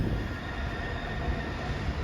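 A train arriving at Shrewsbury station rumbles close by with a low steady roar and faint metallic wheel squeal, no voices.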